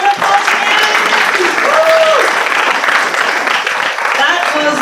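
Sustained applause from an audience at an Australian Shri Adi Guru Puja evening program, dense and steady throughout, with a few voices and a brief tonal sound rising over the clapping.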